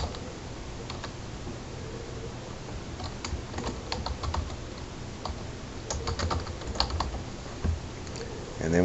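Typing on a computer keyboard while entering an email address to create a Google account, a steady stream of close, quick clicking keystrokes with brief irregular pauses.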